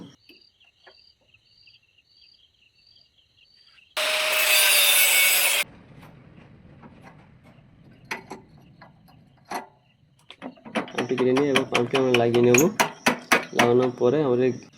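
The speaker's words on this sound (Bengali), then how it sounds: "সেই পাইপটি আমরা কেটে নেব" A pipe is cut while being fitted into a vehicle's clutch, brake and accelerator lines, giving a short burst of harsh rasping. Scattered clicks and scrapes of handling follow, then a longer stretch of rhythmic rubbing and grinding strokes.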